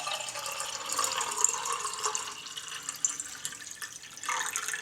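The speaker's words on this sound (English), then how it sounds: "you need to add water" Tap water running into a pot for Lebanese coffee, a steady close splashing and trickling flow throughout.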